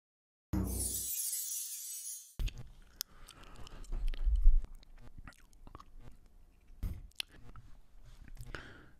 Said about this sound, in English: You can hear me chewing gum?